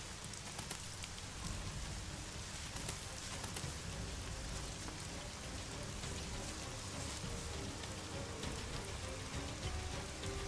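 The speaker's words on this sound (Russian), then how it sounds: "То есть тут всегда звук дождя" Rain pours continuously in the video game ELEX, a loud dense hiss with scattered drops that holds steady throughout, with no voices.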